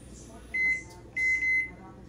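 Microwave oven humming steadily as it runs, broken by two clear electronic beeps, a short one followed by a longer double tone, loud and close in a quiet kitchen.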